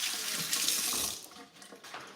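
Hands rinsed under a running kitchen tap while cooking goat cheese: a steady, close hiss and splash of water that runs continuously, with no talking.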